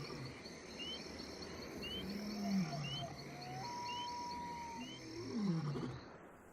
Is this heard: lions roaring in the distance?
yes